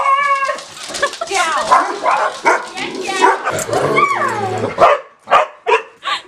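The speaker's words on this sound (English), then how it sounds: "Why are you barking at me?" A dog barks and yips repeatedly up close, loud and excited, mixed with whiny, whimpering sounds and a person talking over it.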